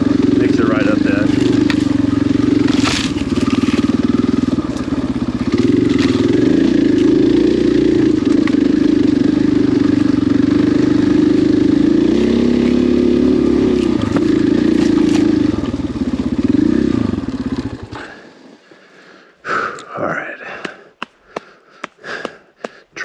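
A 500 motorcycle engine climbing a trail at barely any throttle, crawling at 5–10 mph, holds a steady low thrum close up for most of the stretch, then cuts out, leaving scattered clatter and scraping.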